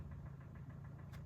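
Hyundai i40 with a G4NA engine and a bad piston knock from scored cylinders, idling in sub-zero cold with a steady rapid metallic knocking over the low engine rumble, close by.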